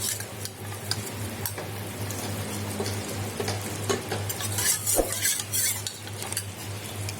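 A utensil scrapes and clinks steadily against a pan while a thickening mixture of flour and a little water is stirred, with a low hum running underneath.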